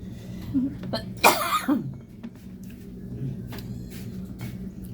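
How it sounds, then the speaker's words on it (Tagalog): One abrupt cough up close, followed by a small throaty sound, over a low steady background hum with faint clicks. "Nasama pa sa video yung ubo ah."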